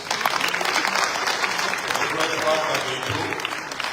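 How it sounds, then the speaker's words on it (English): Audience applause at a live rally in Boston honoring chapter leaders, steady broadband clapping filling the room with a voice talking over it. "Please give them another round of applause"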